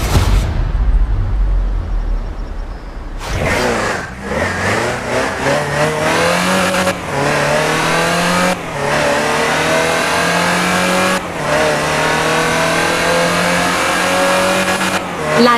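Land Rover Series III engine in Forza Horizon 4, starting up and revving, then driving with repeated gear changes. The engine note is loud and close, and the pitch climbs and drops with each shift.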